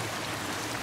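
Powerful river water rushing in a steady, unbroken broadband wash, close and fairly quiet, with no other sounds over it.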